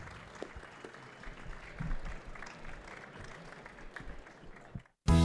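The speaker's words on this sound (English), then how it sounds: "Let's give a round of applause to our panelists." Applause from a conference audience for a panel on enterprise blockchain, a fairly quiet, even wash of clapping that swells briefly and then cuts off abruptly into a louder sound at the end.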